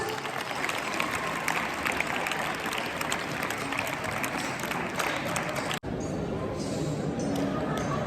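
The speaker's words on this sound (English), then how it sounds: "a huge round of applause" A large audience at a school Republic Day celebration claps steadily in a dense, sustained wash of applause, with a brief dropout partway through before the clapping resumes.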